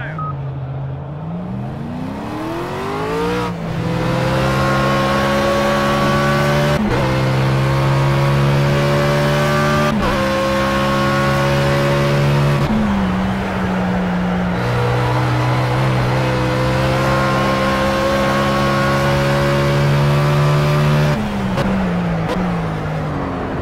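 A VDS Racing BMW Z4 race car roars around Silverstone from the helmet view, its loud engine rising through gears with sharp shift breaks, steady and close throughout with no talk.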